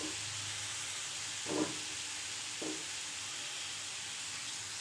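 Quiet, steady sizzle of pumpkin halwa (Kasi halwa) cooking in a pan, with two soft scraping stirs standing out briefly over the constant hiss, no talking.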